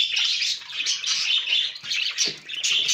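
Cockatiels, including a female, chirp and whistle in their cage in short bright bursts, repeated close by and alone.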